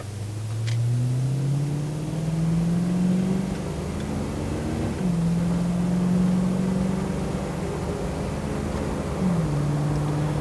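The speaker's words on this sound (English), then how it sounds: "Just going to accelerate here a little bit." A 1988 Ford Mustang LX hatchback accelerates through three gears. The steady engine drone rises in pitch and drops back at each of two clear upshifts, heard from inside the car without talk.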